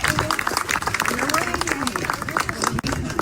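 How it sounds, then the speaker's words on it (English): Crowd clapping at a July 4th reading event in Lubbock, a steady round of applause mixed with voices and cheering from the audience. "So let's give them a round of applause"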